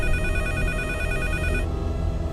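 A telephone bell rings steadily and loudly, a continuous electronic trill that cuts off partway through, leaving a low background hum.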